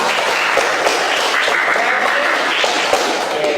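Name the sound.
applause for a student named Bintang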